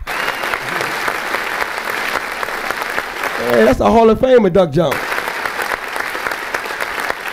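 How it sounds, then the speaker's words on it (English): Dense group applause fills the clip, steady throughout, with someone speaking briefly over it in the middle. "That clapping group, clap, clap."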